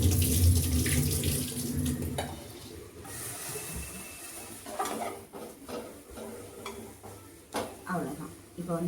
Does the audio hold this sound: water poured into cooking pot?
yes